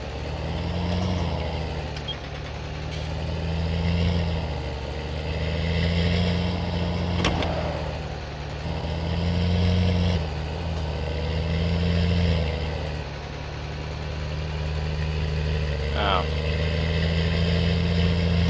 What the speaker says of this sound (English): This is our new tractor here for the grain cart.